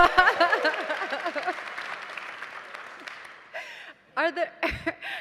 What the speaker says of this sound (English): now we just need a round of applause for Kitty as well